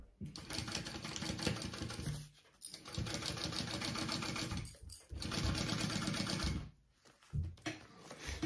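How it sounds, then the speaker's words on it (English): A sewing machine stitches bag lining pieces together, a dense, rapid mechanical clatter running in three bursts with short pauses between them, close and fairly loud. "sandwich those two together and sew it at my full seam allowance"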